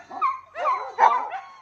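Dogs at an animal shelter barking and yipping, three sharp close barks in quick succession with whiny tones, loud and without voices.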